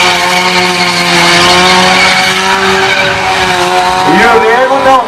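A front-wheel-drive car held at high revs while its tires squeal and skid at a Morro da Fumaça motorsport event, a loud sustained engine scream with a pitch sweep near the end and a crowd or commentator underneath.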